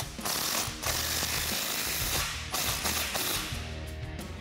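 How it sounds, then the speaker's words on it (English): Ratchet with a 15 mm socket tightening an exhaust clamp on a Jeep Wrangler JL cat-back exhaust, bursts of rapid clicking close by, repeated several times with short pauses. "I'm going to start with this back clamp using a 15 millimeter socket"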